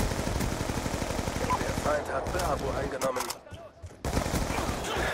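Rapid bursts of gunfire in a Black Ops 2 match, with automatic fire rattling in quick repeated shots, broken by a short lull and then resuming, while players talk over it.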